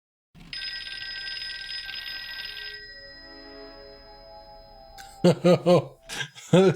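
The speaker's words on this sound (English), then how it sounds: "Toy phone is ringing." A toy phone rings in a TV horror drama scene: a bright electronic trill sounds for about two seconds, fades into a lingering tone, then voices speak briefly over it.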